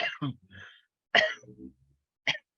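Two or three short, sharp coughs or throat-clearing bursts, separated by brief pauses and a murmur of voice, close to the microphone.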